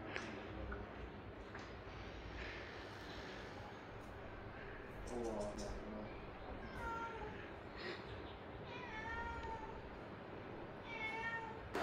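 A house cat meows several times indoors at home, its drawn-out cries rising and falling in short bursts over a steady background murmur, with the clearest calls in the middle and near the end.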